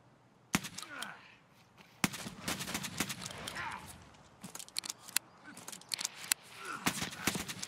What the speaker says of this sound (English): It's the freaking shotgun battles.